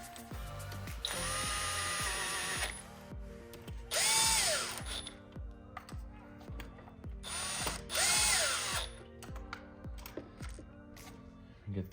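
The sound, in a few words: tightening thermostat housing bolts on BMW V10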